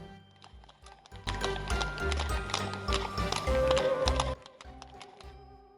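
Hooves of a horse pulling a black cart clip-clop in a steady rhythm, growing louder through the middle with a brief whinny, then thinning out to a few spaced hoofbeats.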